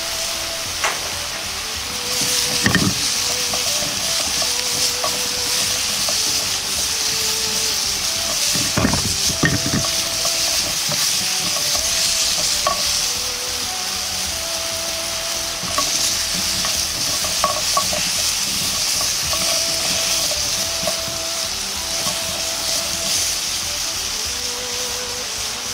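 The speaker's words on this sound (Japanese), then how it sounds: "そうしたらかぼちゃを入れ炒めていきます。" Butternut squash pieces and softened onions stir-frying in oil in a pan, a loud continuous sizzle broken by repeated spatula scrapes and knocks against the pan, close up with no talking.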